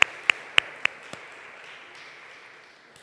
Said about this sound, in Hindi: यीशु के नाम के लिए एक दफ़ा ज़ोर से हम तालियां बजाएंगे